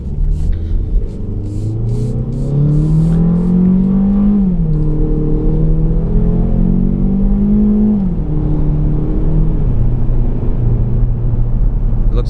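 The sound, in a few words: 2014 Ford Focus Titanium pulling out and accelerating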